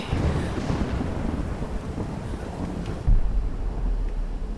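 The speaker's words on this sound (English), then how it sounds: "That is just thunder." Thunder in the video game Tomb Raider (2013): a continuous low rumble with wind and rain noise over nearly five seconds, swelling into a louder crack about three seconds in.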